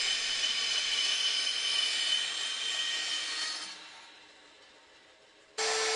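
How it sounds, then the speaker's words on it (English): A bandsaw rips through a wooden tabletop to cut off a rounded corner, a steady loud whirring rasp that eases off as the cut finishes, then the bare motor hum resumes alone. "which I then cut off with a bandsaw."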